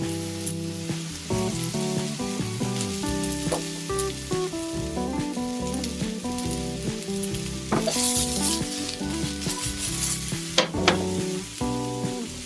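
Eggplant and celery sizzle steadily in a hot pan for Sicilian caponata, with repeated scraping and stirring strokes and clinks over a continuous frying hiss; no talking.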